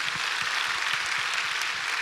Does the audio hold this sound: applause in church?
yes